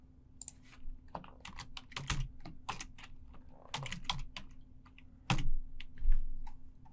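Typing on a computer keyboard, close and crisp, with irregular bursts of key clicks and a few heavier thumps near the end, over a faint steady hum.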